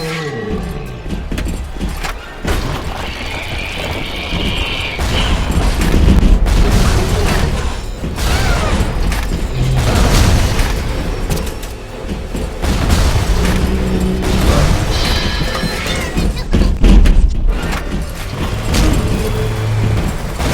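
Frag grenade explosions in the video game BioShock, repeated heavy booms and rumbling blasts stacked over busy game sounds and music, loud and continuous for the whole stretch with several sharper bursts.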